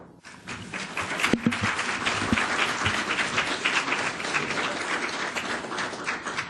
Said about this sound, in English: it doesn't happen often that a petitioner gets an applaud just spontaneously like that